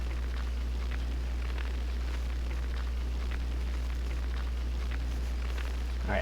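Flame roasting in Genshin Impact: a steady, dense crackling hiss with a low roar underneath, continuous and even for the whole stretch with no voices.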